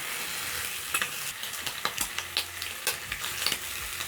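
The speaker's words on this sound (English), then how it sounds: "So as my bacon cooks" Bacon frying in a pan gives a steady close sizzle, with a handful of sharp scraping or stirring strokes standing out above the hiss in irregular succession.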